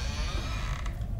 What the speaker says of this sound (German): Also öffnen wir die Tür.